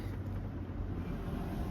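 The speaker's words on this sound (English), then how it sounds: "Sorry, some loud cars." Low, steady rumble of traffic noise outside, a continuous broadband roar like cars passing nearby, with no talking.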